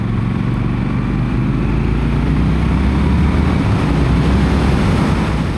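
A Triumph Scrambler 1200 XC motorcycle rumbles low and steady while riding, its deep engine drone constant and close beneath heavy rushing wind noise, with no change in pitch.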